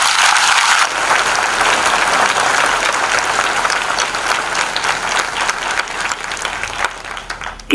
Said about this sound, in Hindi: आइए यीशु के लिए जोरदार ताली बजाएं